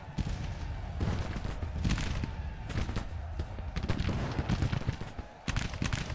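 A brigade fires in a Civil War strategy video game, with irregular volleys of massed musket fire and booming shots rolling over a constant battlefield din, some bursts sharp and close, others further off.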